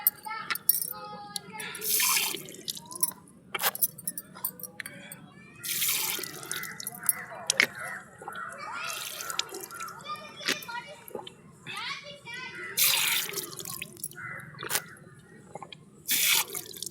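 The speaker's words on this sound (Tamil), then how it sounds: "அப்படியே தண்ணியை பைப்பை ப்ரெஸ் பண்ணி குடிக்க வேண்டியது தான்." Water splashes and drips from a press-button tap at a zoo in Chennai, in short bursts separated by pauses, with children's voices and people talking around it.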